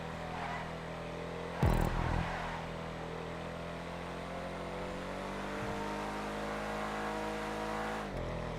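The engine of a Canis Freecrawler, a four-door off-road car in Grand Theft Auto 5, revs and drones steadily and loudly, with a short sharp burst early on and a gear change shift near the end.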